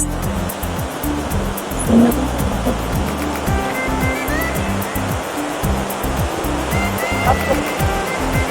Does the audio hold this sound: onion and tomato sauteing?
no